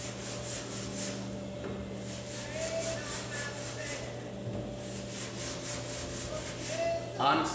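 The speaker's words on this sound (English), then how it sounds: "I'm using the clay bar from Automagic, the fine clay bar" An Automagic fine clay bar is rubbed over waxed car paint, giving a soft, rhythmic scraping hiss in repeated strokes. A steady low mechanical hum sits underneath.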